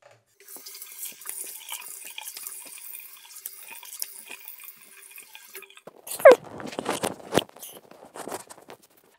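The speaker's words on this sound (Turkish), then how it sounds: "Yüzümüzü yıkayalım." Running tap water splashes into a sink while a face is washed, a steady faucet stream through the first half, then louder irregular splashing and cupped-water bursts near the end, with no talking.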